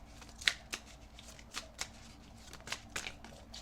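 Tarot cards being shuffled for a reading, a close run of papery riffles and soft flicks that come in uneven bursts, with no talking over it.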